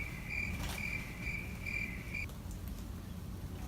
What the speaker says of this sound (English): Oh, come on, crickets. It's not even nighttime.